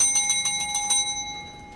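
A call bell for online sellers, a small counter bell, is struck six times in quick, even succession, each ding bright and ringing, then the tone decays into a fading shimmer with no voices.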